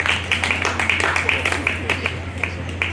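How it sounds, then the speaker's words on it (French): Brief scattered clapping at a civil wedding ceremony officiated by a pastor, applauding the church officer: a few sharp, uneven claps over a steady low electrical hum in a room. "Applaudissez pour l'officier de l'église"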